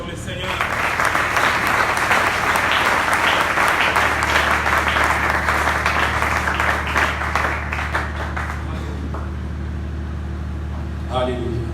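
Loud, sustained applause from a church congregation during a Sunday service, with dense clapping filling nearly twelve seconds and easing slightly toward the end.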